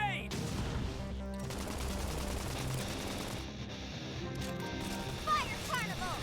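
In the video game Xenoblade Chronicles X, a flame grenade goes off amid rapid bursts of gunfire and rattling mechanical battle noise, with a voice speaking over the steady combat din.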